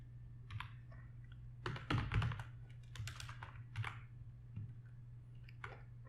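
Typing on a computer keyboard while entering a query in DAX Studio: quick, close-up key clicks in irregular bursts, with a denser flurry partway through, over a steady low electrical hum.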